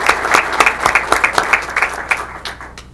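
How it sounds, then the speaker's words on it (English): A brief round of applause at a board of education meeting, many hands clapping together at once, loud and close, gradually thinning out toward the end. "Round of applause for Alex."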